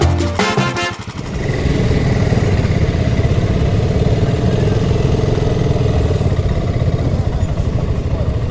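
A BSA Gold Star motorcycle, a liquid-cooled 650 single, runs on-road with a loud, steady thumping engine drone close by after a brief burst of clatter at the start.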